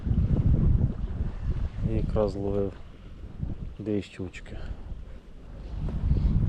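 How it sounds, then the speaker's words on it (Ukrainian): Gusty wind buffets the microphone on a riverbank during spin fishing for pike, a steady low rumble running through the whole clip beneath a man's speech. "Маю надію, що цей вітер ближче вечора трошки стихне"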